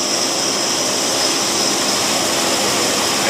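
An Erickson ProForm 850 DP engine, running rich, idles up into a loud, steady, close-up roar with a bright high whine over broadband noise, holding constant for the whole stretch with no voices.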